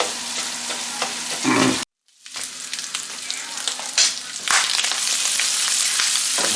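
Sausage gravy, cooked all in one pan, sizzles and fries steadily while a spoon stirs through it, with a brief drop to near silence partway before the loud frying hiss resumes.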